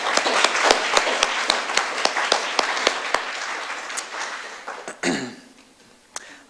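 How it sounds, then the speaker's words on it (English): An audience at an art exhibit roundtable gives a round of applause for the artists: sharp, distinct claps that thin out and fade, followed by a cough or throat clear and one late clap. "I just want to give all of the artists in the fabulous exhibit a wonderful round of applause."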